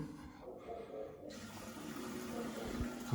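Water runs steadily into a newly installed toilet bowl, a soft continuous rushing that grows a little fuller, with a faint hiss at the start.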